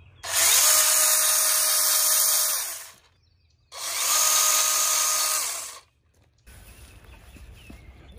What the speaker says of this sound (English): if you guys are wondering why I'm cutting some of these branches down